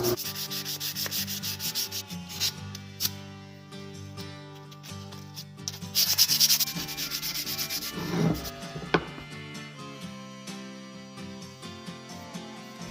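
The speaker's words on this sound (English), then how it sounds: "I'm going to start off with just sanding this down with some rough sandpaper" Rough sandpaper rubbing back and forth on a rusty knife blade, a repeated scratchy rasp at close range, no speech.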